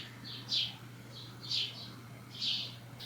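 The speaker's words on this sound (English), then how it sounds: "these bird sounds that you can hear behind me" Birds chirp outdoors in Los Angeles, three separate bright bursts of high twittering calls arriving about a second apart over a steady low hum, fairly close and clear with no voices.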